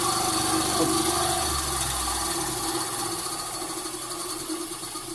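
A steady, dense mechanical whine of an Einhell TC-SB 200/1 band saw cutting through a thick wooden rafter, loud and continuous, fading slightly as the cut goes on.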